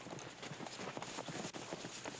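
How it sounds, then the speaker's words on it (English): Several horses clip-clop in a steady, busy patter as they are run up in hilly country for a Western drama, hooves close and fairly loud with faint voices now and then. "Hank, run up the horses."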